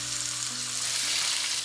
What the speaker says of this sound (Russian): Здесь нужно потратить немного времени для того, чтобы конина, посмотрите, обжарилась со всех сторон.